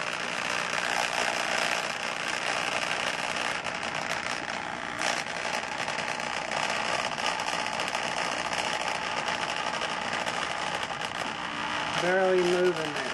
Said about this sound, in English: Just a real simple drill here, and I want to show you how slow we turn this to achieve what would be a charging